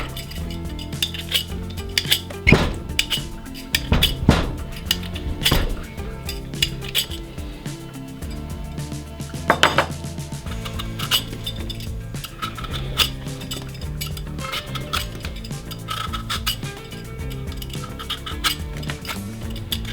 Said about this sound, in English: Then it's time to go ahead and peel all of the squash.